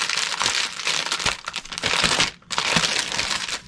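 A large 40 by 60 diamond painting canvas package is opened by hand, its plastic crinkling loudly and almost continuously, with one short pause partway through.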